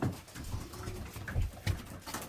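Racing pigeons cooing in a loft, soft low throaty coos repeating under rustling and movement nearby, fairly quiet.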